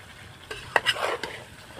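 Desi chicken stirred in a frying pan during village-style curry cooking: a soft sizzle under a few quick scraping stirs, close and fairly quiet.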